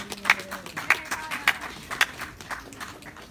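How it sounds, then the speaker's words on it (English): Children in a class give themselves a round of applause, a sparse, uneven patter of light claps with a few louder smacks, fairly close and modest in volume. "Can you give yourselves a round of applause?"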